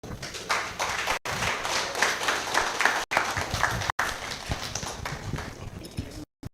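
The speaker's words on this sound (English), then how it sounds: "Please, another round of applause for Dr." An audience at a public election report presentation applauds after a speech, with steady, fairly close clapping from many hands that continues in waves, broken by a few brief cuts.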